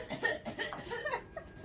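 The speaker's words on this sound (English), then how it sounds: "Thank you for coughing." A single person coughs in a short, breathy burst of a few rough hacks, faint and close, with a slightly laugh-like quality.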